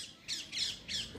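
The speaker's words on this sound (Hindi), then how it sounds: "देखो तोते बोल रहे हैं" Parrots calling in a tree-filled village at evening, giving three loud, harsh squawks in a steady rhythm, close by, with no talking.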